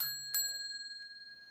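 A quiz show answer bell gives one bright ding that rings out and slowly decays, heard alone over a faint steady tone.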